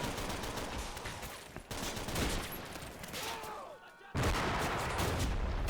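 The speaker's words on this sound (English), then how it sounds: "Artillery being directed as well." Gunfire and artillery in a video game battle set around a tower with Soviet troops, dense continuous volleys and rattling bursts with heavy booms, loud and unbroken, with voices faintly underneath.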